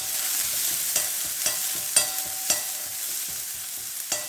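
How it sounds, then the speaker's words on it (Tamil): Green chillies, dried red chillies and onion fry in oil in a pan, giving a steady sizzle broken by sharp scraping clicks from stirring about every half second, close and moderately loud. "இதை வறுக்கிறேன்."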